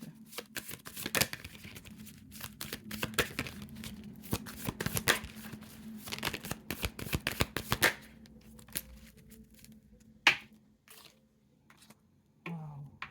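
Tarot cards shuffled by hand during a card reading, a run of quick papery riffles and soft slaps up close for several seconds, then scattered taps and a faint low hum.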